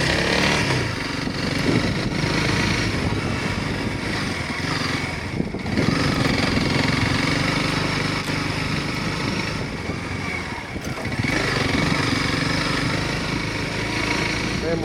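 A dual sport motorcycle engine drones steadily and loudly through a run of corners on soft dirt, revs rising and falling as it slows and accelerates, with wind buffeting on the camera mic.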